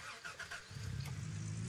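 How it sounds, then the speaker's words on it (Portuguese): A vehicle engine starts up in a video game, a brief cranking followed by a steady low idle that settles in and holds, fairly loud and alone. "Apertando Enter aqui para ligar o motor."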